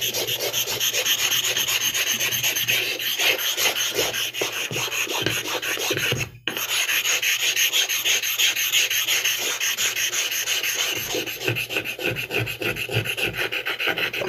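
A sharpening stone is flattened by rubbing, a loud, steady, gritty rasping scrape that carries on in continuous strokes, broken by one brief pause partway through, with no talking.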